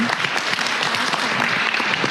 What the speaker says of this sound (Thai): ขอเสียงปรบมืออีกครั้งหนึ่งครับผม